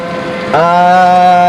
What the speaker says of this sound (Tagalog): Rinig yung motor, rinig natin yung motor nito